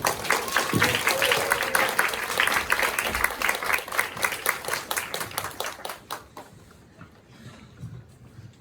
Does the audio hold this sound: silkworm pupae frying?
no